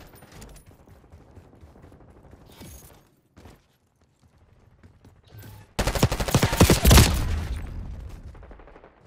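Gunfire in Call of Duty Black Ops 6 multiplayer: several seconds of scattered quiet shots and game sounds, then a loud, close burst of rapid automatic fire that tapers off toward the end.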